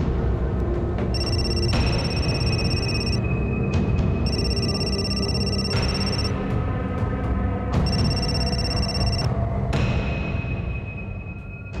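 A telephone rings over and over: four loud bursts of trilling bell rings separated by short pauses, over a low background rumble.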